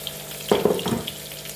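Onions dropped into hot coconut oil in a pan, a short burst of crackling sizzle that quickly settles into a softer fry, close and moderately loud.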